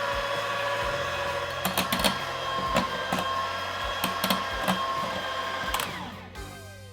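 Electric mixer whirring steadily as it beats sugar into meringue, a continuous motor hum with sporadic clicks and knocks of the beaters against the bowl, close and alone before winding down at the end.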